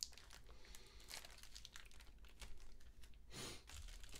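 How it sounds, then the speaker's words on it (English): Packing tape on a Razer BlackWidow Ultimate Stealth 2014 keyboard box being pulled and broken by hand: faint, close crinkling and scraping of cardboard and tape, with a brief louder rip near the end. "No, gotta break this tape."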